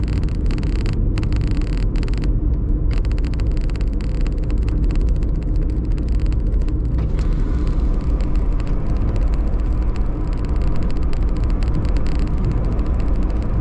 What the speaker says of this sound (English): You can see trucks here they've come to collect containers from for different countries.